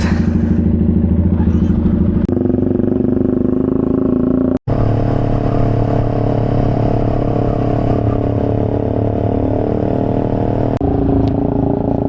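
A noisy Triumph Speed 400 and a Honda Rebel 500 ride along an expressway, a loud continuous engine drone with gear shifts changing the pitch and a brief dropout midway.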